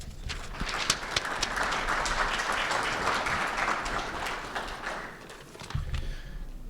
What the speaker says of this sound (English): please join me in a warm round of applause to welcome our moderator and panelists